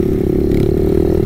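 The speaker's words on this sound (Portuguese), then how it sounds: "abater o motor da minimoto" A mini motorbike engine runs with a steady, loud mid-pitched buzzing drone and rough rattling pulses, close by, with no talking.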